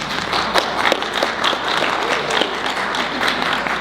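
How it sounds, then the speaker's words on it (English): An audience applauding a physician introduced at an opening session, dense steady clapping from a crowd filling the room, moderately loud and continuous. "I just want to point out that he got applause"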